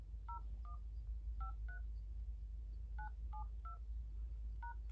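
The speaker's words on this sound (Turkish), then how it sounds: "Numaraya tuşluyorsunuz." A telephone keypad sends a number as a quick sequence of distinct two-tone DTMF beeps, spaced in small clusters over a low steady hum, with no voices.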